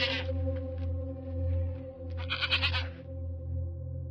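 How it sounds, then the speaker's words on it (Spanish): A goat bleats in long, wavering, nasal calls, close and fairly loud, with a breathier burst partway through and no talk. "escuchó nuevamente el balar de la cabra, aunque ahora mucho más cerca"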